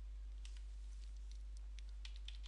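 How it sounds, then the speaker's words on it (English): Fast, light typing on a computer keyboard while entering text into an email composition window, faint irregular key clicks over a steady low hum. "type the text."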